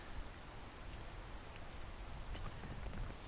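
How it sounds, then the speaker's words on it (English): Rain in the climbing video game Peak falls as a steady, soft hiss with scattered drop patters throughout, and nothing else is heard over it. "And the rain obviously doesn't help. It really slows you down"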